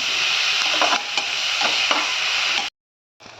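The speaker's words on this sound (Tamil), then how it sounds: "இதில் ஒரு மிளகாய் கீரி போட்டுக்கோங்க. நல்லா வதங்கட்டும்." Green chilli sautéing in a pan for a moong dal kurma, a loud, continuous close sizzle with a few soft stirring clicks, ending in abrupt silence before the frying briefly resumes; no voices.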